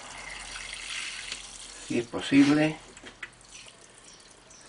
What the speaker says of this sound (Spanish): Voy a regarla un poco.